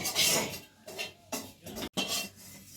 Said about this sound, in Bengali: এটা এখন মা জিরে গুঁড়ো আর ধনে গুঁড়ো কড়াইতে একটু ভেজে নিচ্ছে